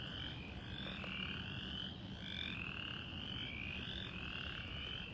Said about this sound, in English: Check out these frogs.